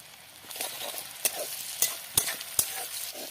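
Onion with a pinch of salt hits hot oil and crackles, a soft steady sizzle broken by several sharp pops and stirring scrapes, close and clear with no talk.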